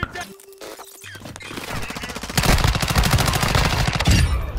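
A video game firefight with rapid automatic gunfire, loud and dense bursts that build into a sustained stream of shots after a brief quieter opening.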